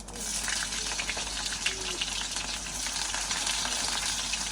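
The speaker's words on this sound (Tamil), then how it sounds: "இப்போ எண்ணெய் வச்சுட்டு வந்து கொஞ்சமாக கடுகு, கொஞ்சமாக சீரகம் போட்டு வெங்காயம்" Mustard seeds, cumin and onion frying in hot oil give a steady, close, dense sizzle with faint crackles throughout, lasting the whole stretch with no voices over it.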